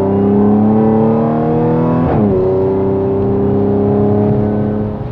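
An Audi S5 with 480 hp launches under launch control, its engine roaring loud and close, the pitch climbing steadily, dipping sharply at a gear shift, then rising again.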